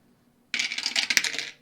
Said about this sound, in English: he gets to roll a 6-sided dice